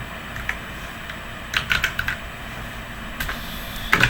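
Keys clatter on a computer keyboard while Python code is typed, close and crisp, scattered bursts of keystrokes separated by quiet pauses, no talk.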